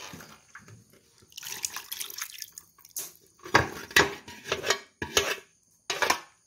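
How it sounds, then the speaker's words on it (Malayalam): Gravy is poured and splashed into a pot of traditional Kerala fish curry made with kudam puli, heard as close, uneven wet pours and drips in short bursts with brief pauses. "ഇനി നമ്മൾ ചാറ് ഒഴിക്കുകയാണ്."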